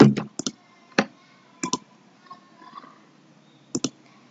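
Sharp computer mouse clicks come while right-clicking a folder in Windows, several single and double clicks spaced irregularly across a few seconds, close and crisp in a quiet room.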